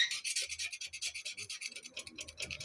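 A small knife scrapes paint off a motorhome body in quick, rhythmic rasping strokes, close up and fairly quiet, with the scraping slowing toward the end.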